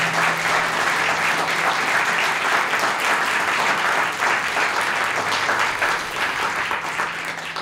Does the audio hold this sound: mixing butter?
no